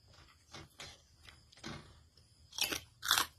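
Crunchy fried pork rinds eaten with a pounded eggplant dip, giving several loud, close crunching bites with quieter chewing between them, growing louder toward the end.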